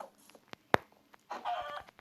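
Chicken clucking in Minecraft, a few short sparse clicks and a sharp pop followed by a brief burst of clucking chatter near the end, with quiet stretches between.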